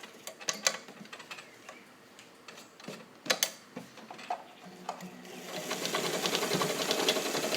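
A vintage Universal zigzag sewing machine made in Japan stitches denim at long stitch length, running in rapid ticking bursts that settle into a steady mechanical whir toward the end, with no talk.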